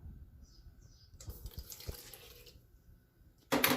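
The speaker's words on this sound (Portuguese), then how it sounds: "Ponhamos o fermento, vamos colocar a água" Water trickles quietly into a bowl to make a panettone yeast sponge, followed at the very end by a brief louder splashing pour.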